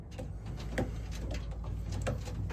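A panicking racing pigeon cock being held in the hands gives soft flutters and scuffling rustles with faint coo-like sounds, close and continuous, and no one speaks.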